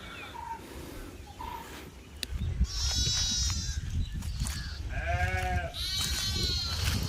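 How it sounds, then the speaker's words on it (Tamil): Sheep grazing in open grassland around wells near a formerly military-held area at Palali, giving several drawn-out bleats of moderate loudness in the middle and second half over a steady outdoor background, with no talk. "அந்த விடுவிக்கப்பட்ட பகுதிக்கு பக்கத்திலே இவ்வளவு செம்மறியாடுகள் மேய்ஞ்சி கொண்டிருக்கிறத நீங்கள் பார்க்கக்கூடிய மாதிரி இருக்கும்"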